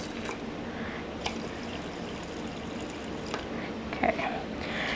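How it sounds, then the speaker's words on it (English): Water poured into a rice cooker pot holding rice, a soft steady trickle and pour running for several seconds with light splashes near the end. "put some water in there"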